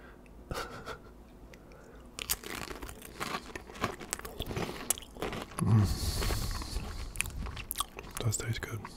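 Close crunchy chewing of chili scooped with saltine crackers, with biting and crinkling sounds in irregular bursts near the microphone, under soft whispered talk.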